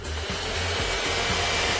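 A Neato XV11 robotic vacuum cleaner runs nearby with a steady high whir and fan hiss, a low motor hum pulsing underneath, heard alone at moderate loudness.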